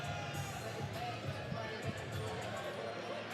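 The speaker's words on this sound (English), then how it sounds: "The crowd on their feet." Boxing fight-night crowd roaring on its feet during an action-packed round, a dense, steady wall of cheering and noise with a commentator talking over it.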